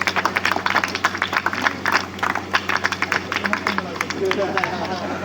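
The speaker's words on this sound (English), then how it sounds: "A round of applause from the audience." An audience claps in steady applause during a memento presentation at the closing ceremony of a grassroots football league and summer camp, a dense spread of hand claps that carries throughout.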